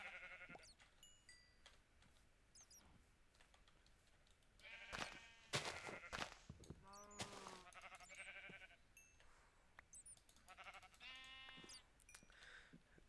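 Sheep in the Minecraft video game bleating repeatedly, several short wavering bleats scattered across the stretch over soft background noise, with no talking.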